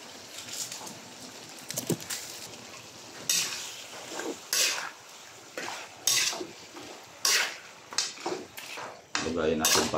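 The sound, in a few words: mixing pork cubes with seasonings in a pot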